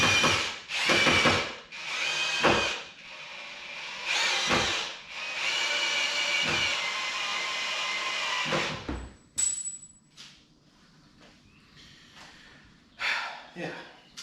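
A power drill runs in repeated short and long bursts, whirring loudly while a camper solar panel array is built outdoors. Breaths and a few quieter handling noises fall between the bursts.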